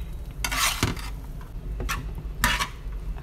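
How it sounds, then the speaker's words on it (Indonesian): A spatula stirs salmon fried rice (nasi goreng) in a pan, with scraping bursts against the metal and a faint sizzle beneath, close and fairly quiet. "Dari kita aduk-aduk rata"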